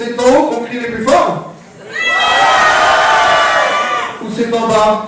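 Audience in a conference hall shouting and cheering together, a loud sustained crowd roar between bursts of nearby talk.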